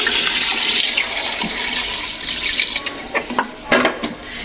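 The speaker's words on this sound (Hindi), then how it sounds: "अब मैं पानी डालने लगी।" Water pours in a steady, rushing stream into a pot of browned, fried beef for a pressure-cooker nihari, close and fairly loud for about three seconds, then a few light clinks and knocks.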